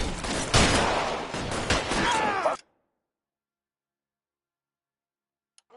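Gunfire in L.A. Noire: a dense, loud volley of overlapping shots fills the first two and a half seconds and then cuts off abruptly to near silence, with one faint click at the end.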